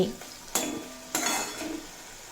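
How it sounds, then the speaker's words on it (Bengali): Spice masala with turmeric being stirred and sautéed in a pan for a Bengali eggplant dish, two sharp scraping strokes over a soft steady sizzle, close and moderately loud. "খুব ভালোভাবে মশলা কষিয়ে নেব মশলার কাঁচা গন্ধ চলে যাওয়া পর্যন্ত"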